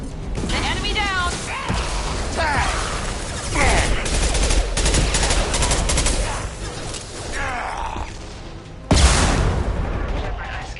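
Sustained gunfire in the video game Mass Effect 2, with dense rapid shots and booms over music and sound effects, and a loud burst near the end.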